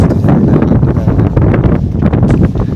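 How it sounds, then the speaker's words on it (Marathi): Strong, cool wind buffets the microphone on the Lohagad fort trek near Pune, a loud, continuous roaring rush with no let-up, heard close and on its own. "मस्त एकदम गार वारा सुटला भाई"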